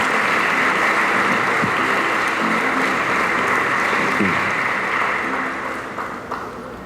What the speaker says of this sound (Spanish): simplemente les pido un aplauso para los que lo han traído